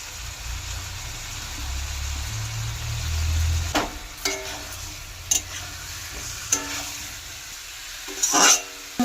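Potatoes, soybean chunks and paneer sizzle in a frying pan for a veg biriyani, a low steady fry broken by sharp scrapes and clinks of a spoon stirring against the pan.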